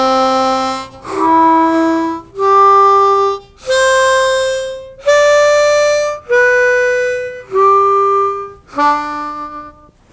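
Diatonic harmonica plays a slow beginner exercise, blowing holes 1 through 4 and then drawing back down through each hole, about eight separate sustained single notes with short gaps, clear and close with no talking.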